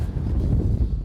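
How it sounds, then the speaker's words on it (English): Strong wind blows across a microphone outdoors at an Alabama coyote hunting stand, a brief loud low rumble of buffeting. "It's too windy."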